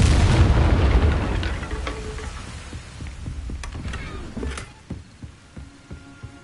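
A Confringo fire spell explodes in the Hogwarts Legacy video game, a loud booming blast at the start that rolls off into a rumbling decay, followed by several smaller thuds and crackles fading out.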